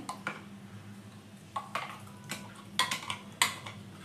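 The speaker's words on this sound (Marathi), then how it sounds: "आता या चटणीला मी एका वाटीमध्ये काढून घेते" Spoon or spatula clinks and scrapes against a mixer jar and small bowl while sour-sweet chutney is scooped out in a kitchen, several sharp separate knocks spread unevenly over a few seconds with no talking.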